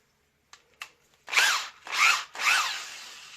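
A power drill whirs in three short, loud bursts after a couple of faint clicks, each burst spinning up and winding down, its bit not tightened enough.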